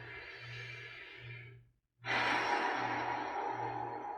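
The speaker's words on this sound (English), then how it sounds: "Breathing." Slow, audible breaths are drawn in and pushed out during a mobility and yoga squat exercise. A long exhale fades into a brief silence, then a loud, full inhale follows, all close to the microphone.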